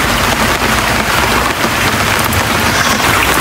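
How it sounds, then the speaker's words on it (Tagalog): Heavy rain pours down during Typhoon Enteng, a loud, dense, continuous roar of drops on surfaces close by. "lumalakas na naman ang ulan dito."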